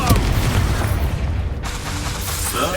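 Expulso exploding spell in Hogwarts Legacy, a loud booming blast with a rushing roar that rolls on for a few seconds amid battle noise and combat clatter.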